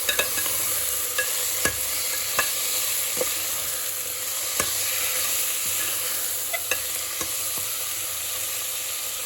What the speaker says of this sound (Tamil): அதுக்கு உடனே புதினா கொத்தமல்லி போட்டு நம்ம நல்லா வதக்கிக்கலாம்.